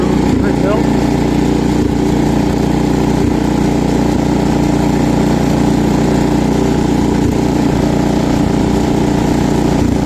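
An old Cub Cadet 126 garden tractor engine runs continuously outdoors with a loud, steady, rumbling idle and a faint periodic knock.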